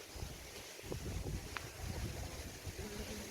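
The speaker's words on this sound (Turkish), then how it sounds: "Hava kapalı, rüzgarlı." Steady wind rumbles and buffets the microphone outdoors on an overcast day in Blanes, a low roaring wash with faint background noise.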